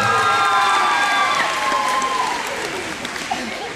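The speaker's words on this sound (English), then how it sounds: "So give them a big round of applause." Loud applause and cheering from an audience at an elementary school musical, dense clapping with whistles and children's shouts on top, gradually tapering off toward the end.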